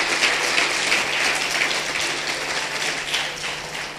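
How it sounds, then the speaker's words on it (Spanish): A church congregation applauds loudly and steadily, a dense continuous wash of clapping with no talk over it. "¡Oh, que sea un fuerte aplauso al Rey de la Gloria!"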